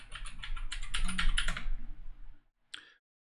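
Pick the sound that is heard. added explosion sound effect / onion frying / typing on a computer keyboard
typing on a computer keyboard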